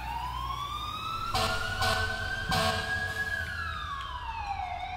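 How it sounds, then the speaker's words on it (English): An emergency vehicle siren in the video game EmergeNYC wails with a rising and falling tone, loud and close, with a couple of sharp bursts layered over the sweep. "Oh, this thing has a weird siren."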